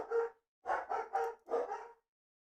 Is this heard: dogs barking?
yes